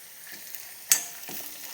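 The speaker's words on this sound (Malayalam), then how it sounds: "അപ്പം മുളക്, പുളിയും ഉള്ളിയും എല്ലാം ഇതിൻ്റെ അകത്തുനിന്ന് വഴന്ന് വരും നല്ല അടിപൊളിയായിട്ട്" Chili, tamarind, onion and curry leaves sauté in hot oil with a faint, steady sizzle, broken by a brief louder crackle and a stir in the pan partway through.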